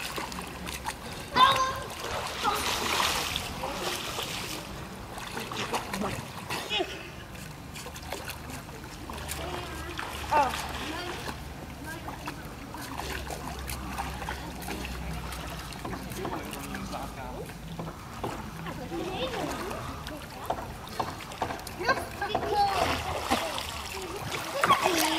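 Children splash and swim in a hotel swimming pool in Mallorca in spring, with intermittent water slaps and sloshing throughout, and kids' voices and adult talk over the top.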